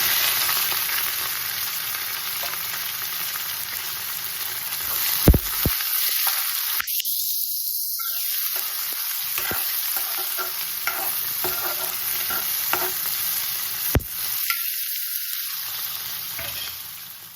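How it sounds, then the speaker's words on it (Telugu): Onions with curry leaves, green chillies, mustard and cumin seeds frying in a pan, giving a loud, continuous close sizzle with a few brief spoon knocks and short lulls. "ఆనియన్స్ బాగా వేగాయండి."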